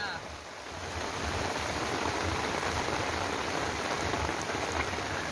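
Heavy rain pours down all day, a dense, loud, continuous roar of drops drumming on surfaces, with no break.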